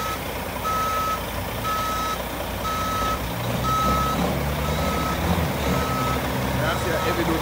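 A heavy-duty truck reverses, its backup alarm sounding about seven evenly spaced beeps over a rumbling diesel engine that grows louder near the end.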